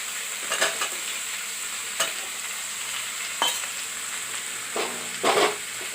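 Potatoes fry in a pan while being stirred, a steady sizzle broken by several short scraping stirs.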